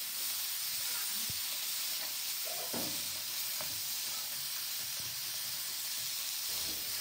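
Cauliflower, potato and brinjal sautéing in spices without water for a small-fish chorchori, a steady sizzling hiss with occasional soft stirring knocks and scrapes, close and unbroken, with no voices.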